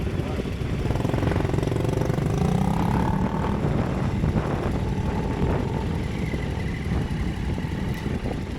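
A Honda Cub 50 motorcycle engine drones steadily as it churns across a pebble beach in New Zealand, a constant rough buzz mixed with crunching stones and wind, heard close throughout.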